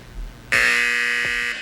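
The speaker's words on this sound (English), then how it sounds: "Did you hear that buzzer?" A game show buzzer sounds once, a loud, sustained electronic tone lasting about a second, preceded and followed by quiet studio ambience.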